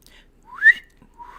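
Someone whistles a short, upward-swooping note, followed by a fainter rising whistle.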